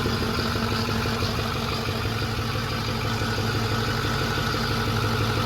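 A 6.4 diesel truck engine idles steadily at its first fire-up with no air filter fitted, a loud, continuous low rumble with a constant mechanical clatter and no breaks.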